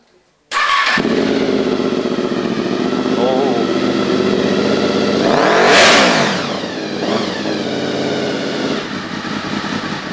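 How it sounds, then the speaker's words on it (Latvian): A motorcycle engine fires up after a brief silence, then idles roughly and swells into a revving surge before settling back, loud and close, while someone talks over it. "pamēģināsim to motociklu piedarbināt"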